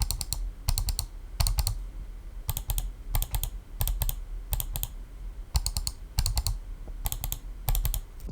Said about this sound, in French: j'adore le bruit de cette souris quand je clique